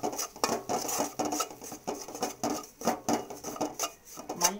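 Coriander powder roasting in a little oil in a pan, a spatula scraping and clinking against the metal in a steady, close rhythm of repeated strokes with no talk.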